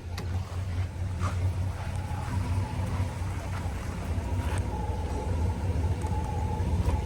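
A 1969 Buick Electra 225 engine idles with a low, steady rumble, fairly quiet and continuous, with faint clicks and handling noises close by.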